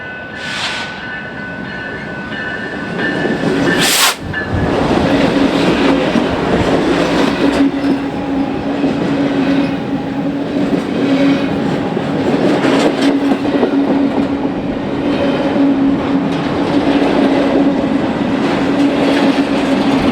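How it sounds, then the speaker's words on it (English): An empty BNSF bare table freight train led by two GE locomotives rolls through LaGrange, Illinois, bound for Cicero, with a short horn blast, then a loud, continuous rumble and clatter of cars passing close by for a long stretch. "a bare table train bound for Cicero rolls through LaGrange behind two BNSF GEs"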